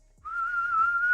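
A person whistles a single steady, clear note that starts abruptly and holds with a slight wavering pitch for about a second, close and alone.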